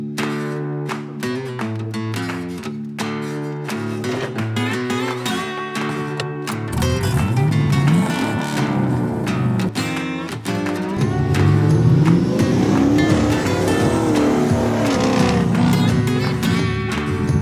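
Two Jeeps with 6.0 LQ4 LS V8 engines, 4L80 transmissions and Atlas transfer cases launch from idle to full throttle in a brother-versus-brother drag race about 100 yards long, steady engine noise swelling into loud, rising roars.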